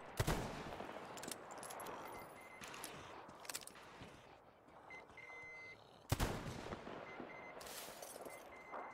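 Weapons fire in the video game Metro Exodus, with sharp bursts of shots scattered through the stretch, a louder volley near the end and faint beeps between, all fairly quiet overall.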